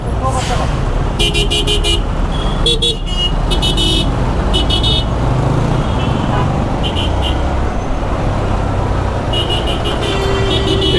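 Late-night traffic near an expressway flyover, with buses stopping and jamming the road: a loud, constant engine rumble broken by repeated horn blasts, while someone talks close by.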